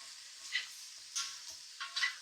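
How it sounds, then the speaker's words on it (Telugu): Vegetables and beans tossed in a pan on high heat for prawn fried rice, giving a steady faint sizzle with a few soft stirring scrapes and clatters spaced through the short stretch, no voices. "సో మనం హై హీట్లోనే పెట్టుకొని జస్ట్ టాస్ చేస్తూ ఉండాలి వీటిని."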